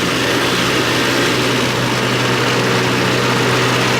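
A car engine revs steadily after a tune-up addressing a distributor starting problem, a loud, continuous dense rumble held at raised speed throughout.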